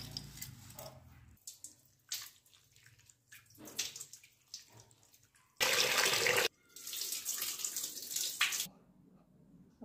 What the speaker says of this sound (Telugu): ముందుగా అటుకుల్ని కొద్ది నీళ్ళు పోసి మనం కడుక్కోవాలండి ఈ అటుకుల్ని.